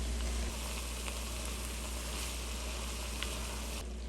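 Tomatoes simmering in a Bulgarian moussaka mixture: a steady, soft sizzle and bubbling with faint crackles, continuous and close, with no talking.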